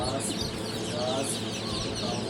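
Golden Misri chicks crowded in a hatchery box, a dense continuous chorus of high peeping and chirping, close and loud, with people talking over it.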